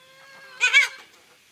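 A single short, raspy squawk from a chicken rises out of a quiet coop, where a new hen is being brought into the flock.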